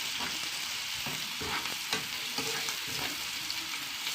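Chopped onion frying in a pot of oil for an Egyptian lentil soup, a soft, steady sizzle with faint stirring scrapes, close but quiet, no voices.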